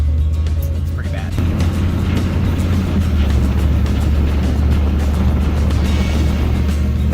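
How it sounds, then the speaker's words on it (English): A 2002 Dodge Dakota 4x4 with a broken CV axle is driven down a rough road, giving off a steady low droning rumble with vibration throughout, while someone talks over it. "That's all play in the wheel, or not play, but vibrations."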